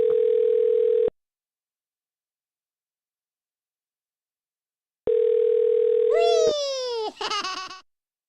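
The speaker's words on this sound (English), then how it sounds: "Okay, that number stopped ringing." An outgoing phone call rings back with two flat, steady tone bursts separated by about four seconds of silence; the second is cut short by a brief, warbling, voice-like sound before the line ends.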